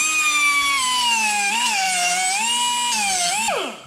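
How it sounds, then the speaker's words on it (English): A small die grinder whines at high pitch while cleaning copper clamped in a vise, its loud steady tone wavering slightly under load before spinning down at the end. "Got a little die grinder out here."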